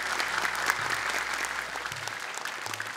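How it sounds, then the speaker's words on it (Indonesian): Studio audience applause at a televised Quran recitation competition, a steady, even wash of clapping with a low background hum underneath. "Boleh tepuk tangan untuk Kak Nabila."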